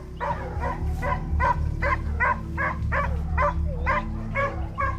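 A pack of hunting dogs barks and bays during a chase, a steady run of about a dozen excited barks with some yips, fairly close, over a low rumbling background.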